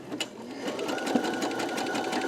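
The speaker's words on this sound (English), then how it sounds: "let's go ahead and start stitching" A Brother SE625 sewing machine stitching fabric with a twin needle at medium speed, a steady fast mechanical whir and rattle running close up for a couple of seconds.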